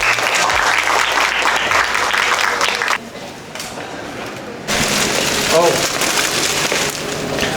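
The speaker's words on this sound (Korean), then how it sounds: "오늘 수고한 모든 분들께 박수 한 번 칠까요?" Loud applause from a group at the end of a day's tour, dense steady clapping that drops to a quieter patch midway before swelling again.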